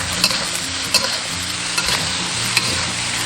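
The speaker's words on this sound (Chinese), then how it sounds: "开大火翻炒1分钟" Radish, with soy sauce, oyster sauce and pepper added, is stir-fried in a wok over high heat, giving a loud, continuous sizzle broken by the rhythmic scrape and clack of a spatula every second or so.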